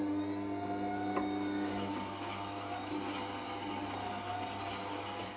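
A WG250 wet stone grinder runs steadily while a plane blade is sharpened, giving a constant close motor hum with a faint whine and light scraping contact, unbroken from start to finish.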